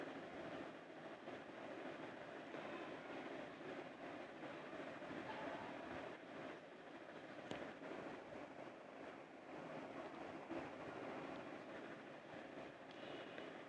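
A sewing machine stitches a fabric seam on an umbrella-style kurti with a faint, steady, rhythmic running clatter that continues throughout without speech.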